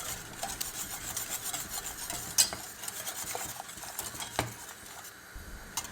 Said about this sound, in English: gradually add the cacao and sugar mixture and whisk vigorously